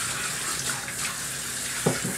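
Water runs and splashes steadily as a dog is rinsed in a bathtub, a broad continuous wash with a brief louder splash near the end.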